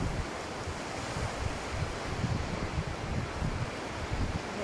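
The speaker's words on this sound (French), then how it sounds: "je vous laisse profiter du bruit des vagues quelques instants" Steady ocean waves wash onto a shore in a continuous rushing wash with soft surging swells and a touch of wind noise, no voices.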